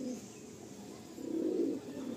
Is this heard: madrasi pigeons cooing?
yes